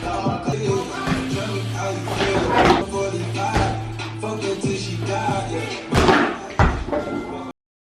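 A BMX bike with a cassette rear hub being ridden, producing a series of loud clunks, rattles and impact thuds with a low hum in between, close up and without talk.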